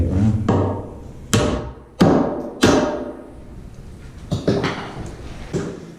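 A nail being hammered into a wooden joist with a few heavy thuds and taps, some strikes sharper than others, close and unhurried against a low background hum.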